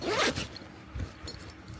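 A heavy-duty rooftop tent zipper, freshly lubricated, run quickly up and down, giving a short close rasping zip followed by a fainter second pass.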